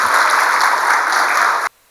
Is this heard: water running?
no